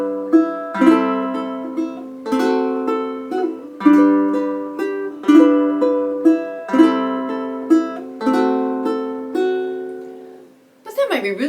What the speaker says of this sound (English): I would suggest that you do a strum with some finger picking.